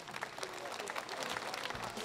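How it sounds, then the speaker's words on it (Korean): Audience applause at a Korean traditional music festival ceremony, fairly faint and distant, with a steady patter of many hands clapping throughout the short stretch. "다시 한번 박수 부탁드리겠습니다."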